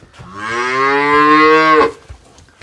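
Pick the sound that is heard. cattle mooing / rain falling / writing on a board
cattle mooing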